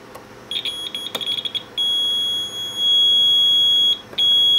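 The alarm buzzer on a homemade automated BGA reballing station sounds close and loud, first in short stuttering chirps, then as long sustained piercing tones with one brief break, and no voices.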